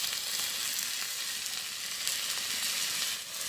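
Vegetables with salt fry in a pan in a village kitchen, giving a steady, close hiss and sizzle throughout the short stretch, with no talking.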